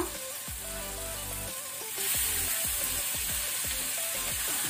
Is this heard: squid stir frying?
yes